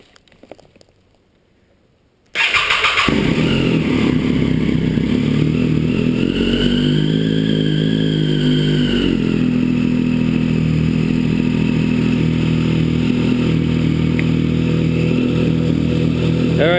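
A 2012 Triumph Street Triple R motorcycle, parked for a coolant flush, fires up after a quiet moment and then idles loudly and steadily up close with a rough, clattering engine note.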